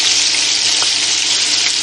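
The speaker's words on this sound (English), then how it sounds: "I think I'll just record the sizzle" A burger sizzles on an outdoor grill, a loud, dense, steady crackling hiss with a few tiny pops, close up and alone.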